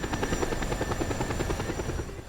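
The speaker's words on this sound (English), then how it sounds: "helicopter here? Yeah, apparently there is." Steady rotor thrum of a helicopter in the video game Just Cause 2, a continuous rhythmic chopping drone at moderate loudness with a faint high engine whine, heard alone without talk.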